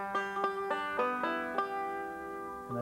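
A five-string banjo picks one measure of a forward roll: a quick run of bright, twangy plucked notes that ring together and then sustain, played solo and close, without talking.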